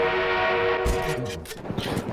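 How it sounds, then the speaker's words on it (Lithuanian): A Thomas the Train toy engine arrives, its horn-like whistle tone sounding steadily for most of the moment, with rattling clatter and knocks breaking in near the end. "Traukinukas Tomas atvažiavo."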